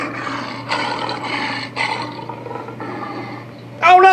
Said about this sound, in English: Oh no, George, that's a lion.